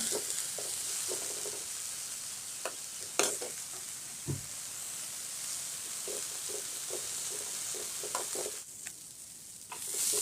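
Black cumin seeds frying in a pan, a steady close sizzle and hiss broken by scattered sharp scrapes and clicks as the seeds are stirred, no talking.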